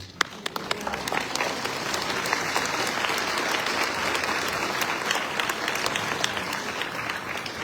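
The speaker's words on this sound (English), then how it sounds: "Another round of applause, please." A church audience at a peace sharing talk applauds, sharp individual claps standing out at first before merging into a steady, full round of clapping that continues throughout.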